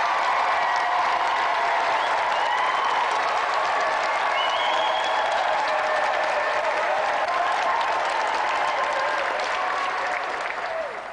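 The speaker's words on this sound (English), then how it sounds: "So let's have another round of applause for our two special guests tonight, Jet and Shadow!" Loud, sustained applause from a large television game-show studio audience, steady clapping that fills the whole stretch without a break.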